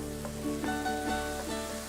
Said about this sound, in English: The only thing that you have to do is to wait for a little sizzle of oil around the garlic.